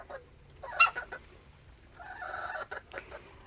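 Leghorn chickens from a flock of thirteen cluck and squawk close by, a sharp burst near the start followed by a longer run of softer overlapping clucks, with no talking.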